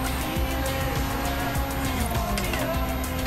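A Ferrari 458 in Forza Horizon 3 takes a tight right turn, its engine roaring steadily and loud throughout with tire squeal, no talking.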